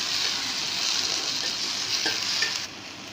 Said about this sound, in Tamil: வெங்காயம், தக்காளி ரெண்டையும் போட்டு நல்லா வந்து நல்லா ஃப்ரை பண்ணிக்கணும்